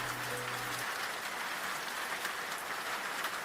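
Steady rain pours down at night, a dense, even hiss of drops on surfaces, with a faint low hum briefly at the start.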